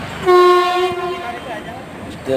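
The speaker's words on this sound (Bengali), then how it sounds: "এই দেখো ট্রেন যাচ্ছে" A train passes a small station and sounds a loud, long harmonic horn blast lasting about a second, followed by rumbling and a faint voice.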